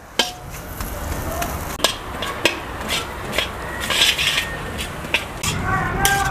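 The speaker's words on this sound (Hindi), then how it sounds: "अब हम इस वाले चम्मच से इसको अच्छी तरीके से थोड़ा बढ़िया से मिक्स कर लेते हैं" Spiced potato and pea masala being stirred and mashed with a spoon in a pan for Rajasthani masala bati, giving repeated scraping clinks and soft stirring scrapes up close, with a faint sizzle underneath and no talk.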